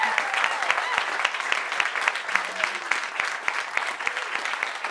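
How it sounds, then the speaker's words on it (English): Steady applause from an audience at a climate program event, honoring the program partners; dense clapping sustained throughout at even loudness, with a faint voice underneath. "So big applause to the partners of the program."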